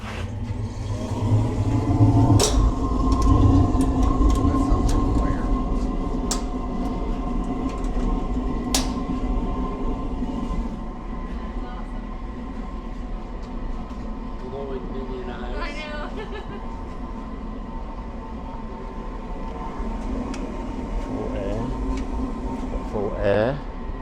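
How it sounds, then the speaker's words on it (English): Blower of a waste oil heater running at full air, a steady loud rushing hum with low rumble that holds throughout, close by, with someone talking over it at times. "put the blower on."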